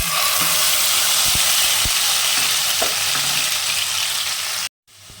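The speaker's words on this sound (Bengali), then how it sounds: "কালো জিরেটা হয়ে গেছে এবার দিয়ে দেবো পোস্ত বাটা" Poppy seed paste hits hot oil already crackling with nigella seeds, giving a loud, steady frying hiss with a few soft stirring knocks, then cutting to silence just before the end.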